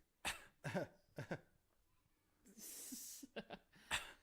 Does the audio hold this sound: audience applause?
no